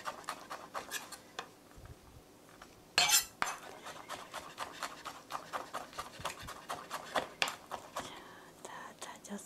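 Knife chopping and pressing down repeatedly on a cutting board while mincing food for an eggplant rice bowl, a rapid series of sharp close taps with a louder cluster partway through and faint background noise.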